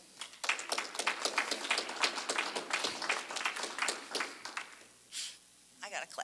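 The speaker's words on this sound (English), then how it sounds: "I got a clap too" Audience applause for the presenter at a district policing committees' annual report meeting, dense clapping filling the room for about five seconds before thinning into a few scattered claps.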